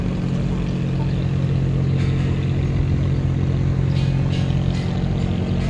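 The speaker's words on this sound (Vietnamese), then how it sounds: "Các ghe tàu chạy liên tục hết luôn." Boat engines chug steadily on the Chợ Gạo river, a continuous low, throbbing motor drone close by with a few passing swells, and faint voices underneath.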